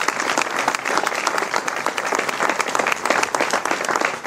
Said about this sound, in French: Je pense qu'on peut vraiment l'applaudir